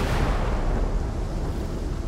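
A lightning anomaly discharges in the S.T.A.L.K.E.R. video game, a loud, dense crackling roar that runs unbroken from start to finish with no talking.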